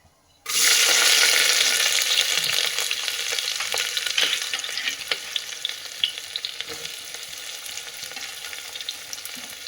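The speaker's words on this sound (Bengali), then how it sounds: "এগুলো একটু নাড়বো, এগুলো একটু নাড়তে হয়।" Bay leaves, cardamom and onion hit hot oil in a pan with a sudden loud sizzle after a short silence, then keep frying in a dense crackling hiss while being stirred, with clicks and scrapes, no talking.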